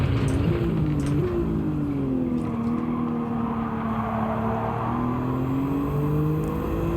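Race cars in Gran Turismo 7 howl along the track, a sustained engine tone that rises and dips with gear changes and other cars close by, loud and continuous without talk.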